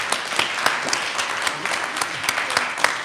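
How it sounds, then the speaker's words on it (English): At a town meeting, one man claps loudly and close by, his sharp, regular claps standing out over the softer applause of the crowd behind him. "He's clapping on my ear like super loud."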